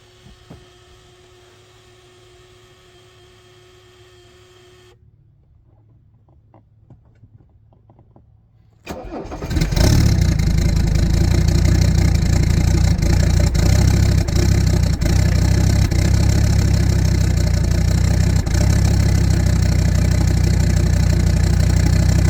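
A car engine cold-starts after near silence: a brief crank, then it catches into a loud, steady idle hum that carries on unbroken to the end.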